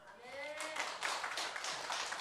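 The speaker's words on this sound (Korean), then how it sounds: "하나님께 영광의 박수 올립시다" A church congregation breaks into applause, scattered claps building softly and quietly from a distance for a couple of seconds.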